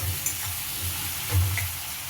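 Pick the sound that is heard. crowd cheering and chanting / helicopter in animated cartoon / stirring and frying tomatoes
stirring and frying tomatoes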